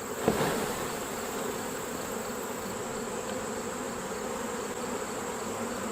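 Honeybees in a hive being sampled for a mite test make a steady dense buzz, close and continuous, with a brief knock at the start.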